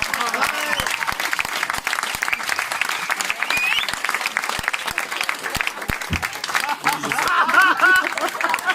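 A crowd at a hypnosis show keeps clapping for the spectators, with steady dense applause, a few distinct sharp claps, light chatter and chuckles underneath, rising slightly toward the end.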